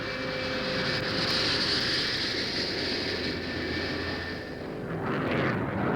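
A propeller airplane flies in a film scene, giving a steady, loud droning roar with a constant engine hum that swells slightly and holds throughout, with no voices.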